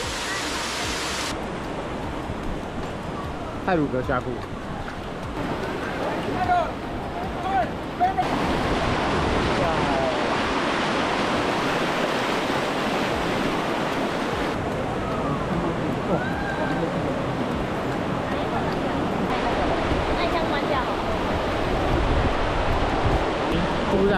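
A waterfall on Java, Indonesia roars as a constant broadband rush of falling water, steady and loud throughout, with people talking over it.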